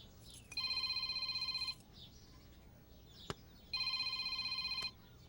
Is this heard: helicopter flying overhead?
no